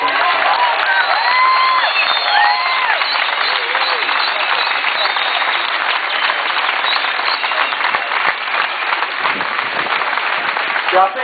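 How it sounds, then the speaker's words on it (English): Crowd applause at a Gaza protest rally in Melbourne, steady and loud throughout, with cheering and scattered voices mixed into the clapping. "Peter deserves a big round of applause for that."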